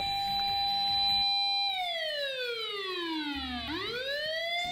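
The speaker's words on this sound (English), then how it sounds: "Apparently they weren't too far off, as the sirens approach in no time." Police car siren wailing loud and close, a steady tone that sweeps down in pitch and then climbs again as the cruiser arrives, with no talk over it.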